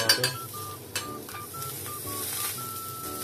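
Pork liempo with butter sizzling and crackling steadily on a hot plate, with intermittent clinks of utensils and a faint tonal beeping over the continuous fry noise.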